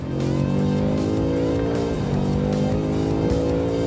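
BMW M5 CS driven hard on the Körfez race track in its stiffest mode, its engine holding a loud, steady drone with layered harmonics throughout and brief dips as gears shift or revs change.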